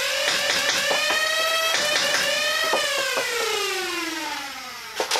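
A Dart Zone Max Omnia Pro dart blaster fires a burst: a loud, close, whining motor hum rises and falls in pitch beneath a rapid run of sharp clicks, then winds down, ending in a final couple of knocks.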